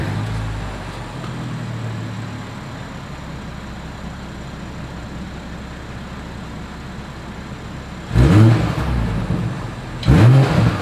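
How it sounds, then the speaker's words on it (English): A 2021 BMW X5 xDrive40i exhaust holds a steady low idle from nearby, then gives two short, loud revs around eight and ten seconds in, with no talking. "As always, here is that exhaust clip."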